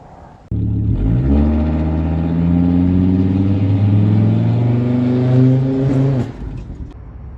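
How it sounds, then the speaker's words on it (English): A 1998 Volvo V70R engine starts abruptly and revs loudly and close for about six seconds in a steady, rising and falling drone, then drops back to a quiet idle. "here we have a 1998 Volvo V70R"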